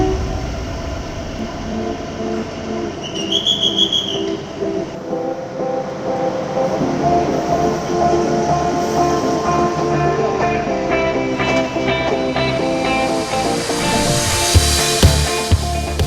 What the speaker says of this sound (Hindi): कालका रेलवे स्टेशन से रवाना होने के तुरंत बाद ही रेल लाइन की चढ़ाई शुरू हो जाती है।